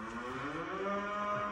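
A calf lets out a drawn-out, steady moo that fills the whole moment, heard fairly close with no other voices.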